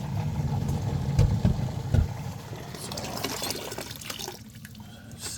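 Water rushes into an old steam boiler through an automatic fill valve, a steady close-up flow of running liquid with a few louder gurgles near the start, heard alone without talk.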